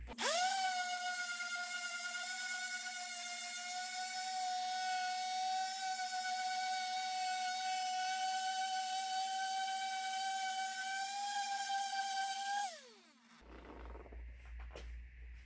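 A power sander with 240-grit paper works a wooden serving tray, giving a steady high-pitched whine that runs for about twelve seconds before winding down. Only faint handling noise follows once it stops.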